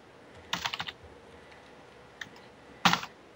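Keystrokes on a computer keyboard: a quick burst of several clicks, a lone tap, then another short flurry, close and fairly clear with no talking.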